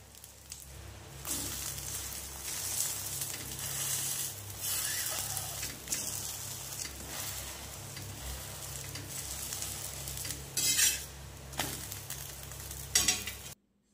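Parathas made with wheat flour and tomato fry in a pan with a steady, even sizzle and a few soft scrapes and pops toward the end.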